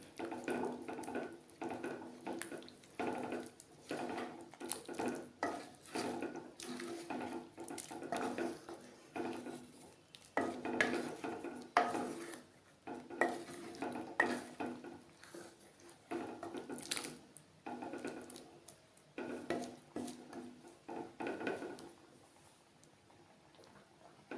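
Ground roasted masala being mixed into a Kerala prawn theeyal in a pan, heard as wet, squishy stirring with repeated scrapes and clinks of a spoon against the vessel, close and moderately quiet, with no talking.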